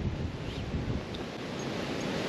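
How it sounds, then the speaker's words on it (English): Steady wind buffets the microphone with a low, constant rumble, alongside a broad rushing wash like surf nearby. "Oh, it's windy."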